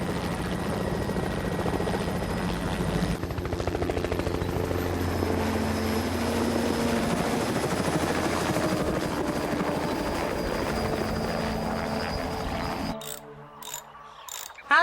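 Helicopter flying with a tail rotor chip light warning, a loud steady rotor and engine drone with ratcheting mechanical texture that holds for most of the clip before cutting to brief choppy bursts near the end.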